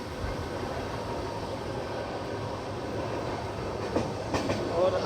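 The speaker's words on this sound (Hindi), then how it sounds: "हमारी ट्रेन बढ़ चुकी है गाजियाबाद जंक्शन की तरफ" The Kashi Vishwanath Express rolls along the rails toward Ghaziabad Junction, a loud, continuous rumble with faint wheel clatter and a few sharper knocks near the end.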